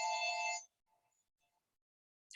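A telephone rings during a talk at a big-tent event, one loud electronic ring lasting about half a second, then near silence before a short new burst at the very end.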